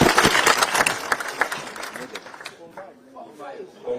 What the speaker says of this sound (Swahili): Aya, tuwapigie makofi.